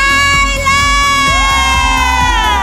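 Crowd of pageant contestants shouting loudly during an introduction, a continuous dense roar with whoops over steady tonal music throughout.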